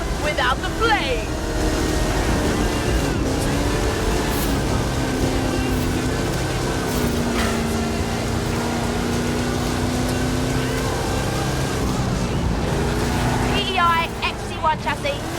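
Big-block 540 cubic inch Chevrolet engine in an XE1 chassis on 66 inch Terra tyres, Forza Horizon 5 Hot Wheels racing, a loud steady droning roar with shifting pitch throughout, with speech over it.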